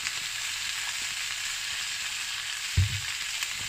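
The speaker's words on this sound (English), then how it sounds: "Okay, so now we're gonna brown our meat" Ground meat browning in a pan for spicy chili, a steady broad sizzle that holds evenly throughout, with one brief low thump of stirring near the end.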